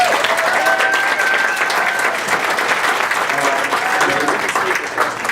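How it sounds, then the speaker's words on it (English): Loud, sustained applause fills a community meeting room at UNC Asheville, a dense wash of many hands clapping with some crowd murmur throughout. "how about a really big round of applause for Jeff Wilcox?"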